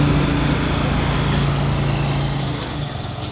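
A scooter engine runs loud and close with a steady buzzing drone as the rider pulls away from a rice noodle shop in Hualien, the sound gradually thinning toward the end.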